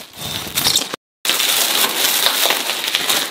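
Harsh, scratchy rasping noise of a cage being rasped in a prison-escape video game, continuous, with a short break of silence near the start, sounding gritty and close.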